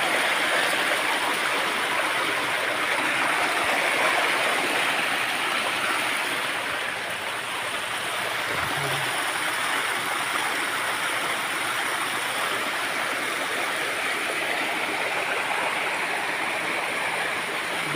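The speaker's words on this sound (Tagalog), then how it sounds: "Ito yung falls. Diba?" Waterfall in Antipolo, Rizal, a continuous close rushing of falling water, loud and steady with no talk.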